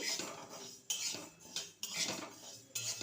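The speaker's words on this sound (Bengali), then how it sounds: "এইখানে দেখো কাঁচা মুগ ডালটা আমি ভেজে নিচ্ছি।" Raw mung dal dry-roasting in a pan, heard as repeated metallic scraping and clinking of a utensil against the pan in irregular bursts, close and fairly loud, with no talking.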